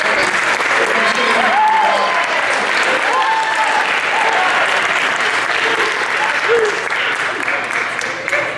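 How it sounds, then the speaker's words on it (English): An audience at a college awards night gives sustained, loud applause to student athletes at Roane State Community College, with a dense wash of clapping and faint crowd voices mixed in throughout. "let's give a round of applause to all these wonderful student athletes at Roane State"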